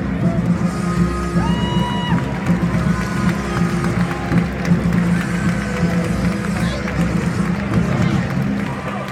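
Crowd applause and cheering at a Star Wars costume parade during Comic Con 2018, steady and dense throughout with a busy background murmur and scattered voices.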